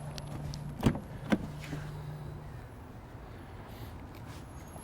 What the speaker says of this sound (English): you push that button and the rear door closes